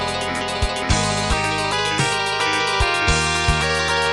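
Guitar harmony with major and minor thirds mixed at random, giving a clashing, off-sounding run of sustained chords that change every half second or so, played alone without talk.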